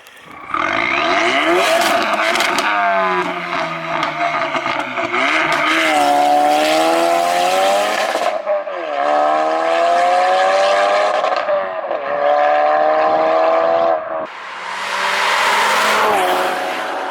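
A modified Mk3 Ford Focus RS 2.3 EcoBoost with a Mountune tune roars and revs hard through repeated gear changes, pitch climbing and dropping with each shift, loud and close throughout.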